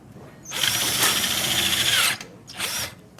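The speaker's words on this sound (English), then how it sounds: "Particularly weak drill." A weak cordless drill of the wrong voltage bores out a stripped hole in a car service lab, a loud steady whine for about a second and a half, then a shorter second burst after a pause.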